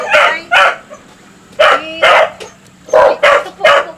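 A dog barks loudly and close by, about seven sharp barks in short bursts of two and three with brief silent gaps between them.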